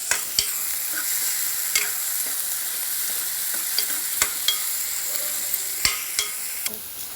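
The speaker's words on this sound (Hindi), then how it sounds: "अब इसे भूनेंगे।" Chopped onions and green chilies stir-fry in oil for an ivy gourd masala, a steady sizzle broken by sharp, irregular clicks of a spatula against the pan, close and without talk.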